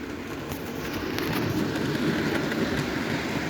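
A model train rolls past a trackside camera at Broughton Sidings, a steady low rumble with faint rail clicks that swells slightly and holds, close by and without voices.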